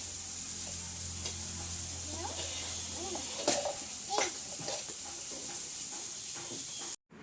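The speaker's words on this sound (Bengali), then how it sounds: "এই দেখো উচ্ছেও ভেজে দিচ্ছে আমাকে" Bitter gourd frying in a pan at home: a steady sizzling hiss with scattered pops and stirring scrapes nearby, ending in a brief cut to silence.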